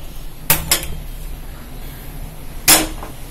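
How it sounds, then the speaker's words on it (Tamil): Cardamom pods are dropped into a pot while making citron juice, giving a few sharp clinking taps: a quick pair, then another single click a couple of seconds later, close and otherwise quiet. "இப்ப இந்த ஏலக்காய், 4 ஏலக்காய் இதுல போட்டுறேன்."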